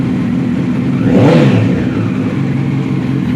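A nearby 2007 Honda 1000RR motorcycle with an aftermarket exhaust idles, then revs up sharply once and falls back to a steady idle.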